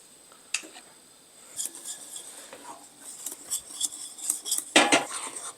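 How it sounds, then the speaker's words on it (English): Soy milk and potato flakes whisked in a bowl for a plant-based peanut mac and cheese, with irregular metallic clinks and scrapes that start sparse and grow busier and louder toward the end, no talking. "We need to whisk it."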